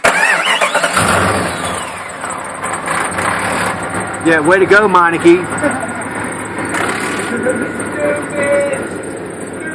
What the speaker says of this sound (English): Listen to that exhaust. That sounds horrible for a freaking muffler